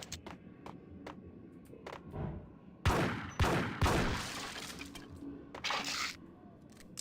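Gunfire in the Max Payne shooter game: scattered sharp shots early, then several loud, closely spaced blasts in the middle, trailing into further intermittent shots, with no talk.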